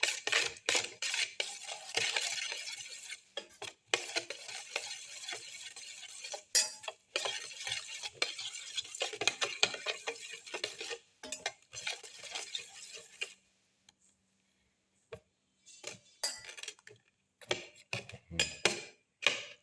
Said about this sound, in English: Mix in the salt.